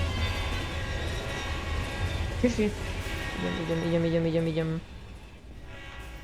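A train passes through a tunnel with a steady rumble, and a horn-like tone sounds briefly before a longer sustained blast. People talk over it.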